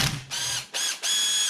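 A ratchet wrench tightening a bolt on an EGR part from a T1N Mercedes Sprinter, three quick bursts of rapid metallic clicking, close and loud, with no one talking.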